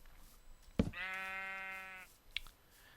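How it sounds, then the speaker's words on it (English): A sheep in a video game gives a single clear, drawn-out bleat after a sharp click, then the scene falls quiet apart from a short tap. "here's a sheep right here."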